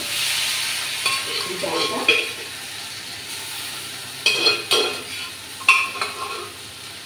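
Boiled moong dal is stirred into hot oil with cardamom and cloves in a kadai. A steady hiss runs underneath, and a spoon scrapes and clatters in several short bursts. A voice says one brief word.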